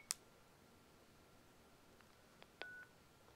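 A telephone call coming in on a radio call-in show: a sharp click at the start, then a few faint ticks and a brief tone-like beep near the end, quiet over a low hiss with no voices.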